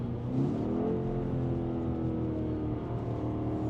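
A 2025 BMW X5 M Competition SUV engine runs at a steady, deep, throaty drone with rising harmonic tones as it pulls and revs from inside the cabin, with no talking over it.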